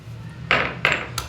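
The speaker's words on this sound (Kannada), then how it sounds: "ಈರುಳ್ಳಿನ ಸೇರಿಸ್ಕೊಂಡು ಈ ಥರ ಜಜ್ಕೊಳ್ಬೇಕು." Onion with other ingredients is pounded to a paste for a homemade phlegm remedy, giving three sharp, close knocks of a pestle or crusher against a hard vessel, evenly spaced about a third of a second apart over a quiet hum.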